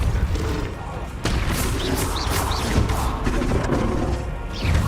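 Hogwarts Legacy combat with a rapid run of spell casts, crashes and blasts, dense and loud throughout with whooshing bursts over a rumbling low end; occasional voice-like sounds mixed in.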